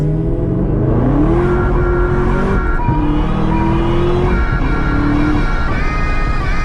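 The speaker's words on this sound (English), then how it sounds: "you can see that I'm losing boost in between shifts" A McLaren engine roars close and loud while accelerating, climbing in pitch through a run of gear shifts with brief drops between them as boost falls away.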